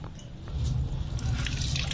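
Water is poured onto plants in a home garden, a splashing, trickling rush that grows stronger partway through and stays fairly close, with no talking over it.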